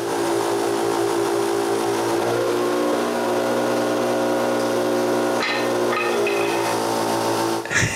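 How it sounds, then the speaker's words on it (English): A power sander reshapes a wooden chair part, running as a loud, steady whine from start to finish, with a few sharp knocks near the end. "so I finish the job with the sander"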